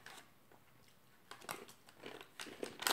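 Crisp bites and crunchy chewing of banana-chocolate shortbread biscuits, close and quiet, with several sharp crunches building toward the end.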